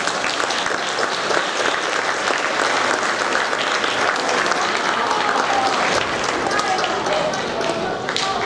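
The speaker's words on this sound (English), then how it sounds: "Let's give them a round of applause." An audience at a seventh grade awards ceremony applauds students with steady, loud clapping that carries on evenly for several seconds, many hands close and dense together.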